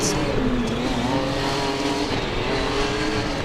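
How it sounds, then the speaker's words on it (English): A Formula Student race car engine drones steadily at close range on a skid pad, its pitch rising and falling as the throttle is worked on and off. "we can definitely hear the throttle control going up and down"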